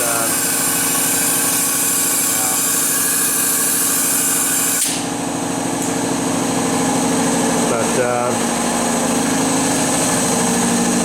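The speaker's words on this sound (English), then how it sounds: "all that noise you're hearing is just blowing past the piston, past the rings" A 6.0 diesel engine roars loudly and steadily with a hissing rush of blow-by air escaping past the piston rings throughout, with a brief dip and knock midway.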